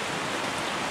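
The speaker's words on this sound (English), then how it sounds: "But this isn't meant to rain for too long," Steady rain falls outdoors in a dense, even hiss of countless drops with no pauses or voices, fairly loud throughout.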